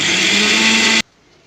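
A mixer grinder whirs loudly for about a second, coarsely grinding ingredients for a curry, then cuts off abruptly into near silence.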